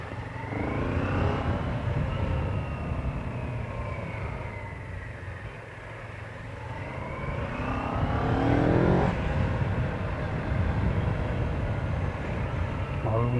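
Car traffic in Istanbul, heard from inside a vehicle: a steady engine and road rumble with passing vehicles swelling and fading, a motor revving up midway, and people talking over it.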